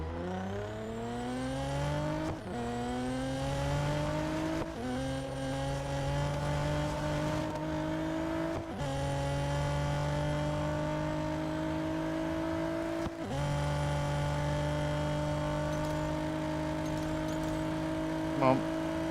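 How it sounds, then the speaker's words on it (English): Race car engine in the Real Racing 3 video game, revving continuously with repeated gear shifts and rising pitch sweeps, loud and steady throughout, with someone talking over it. "I'll stop here and turn the car around."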